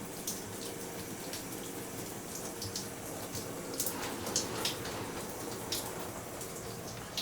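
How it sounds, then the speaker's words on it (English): Hot water runs from a shower in the small bathroom of a fifth wheel trailer, a steady hiss of spray with occasional brighter splashes and drips, close and continuous, no voices. "you had hot water coming out of your shower"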